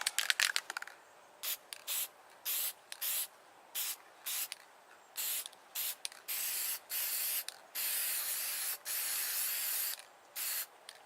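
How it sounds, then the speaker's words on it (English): Spray paint hisses from an aerosol can in repeated bursts of about half a second to a second each, some longer, close and loud, on a cold day outdoors while making a garden art piece. "I'm just going to spray in the middle there."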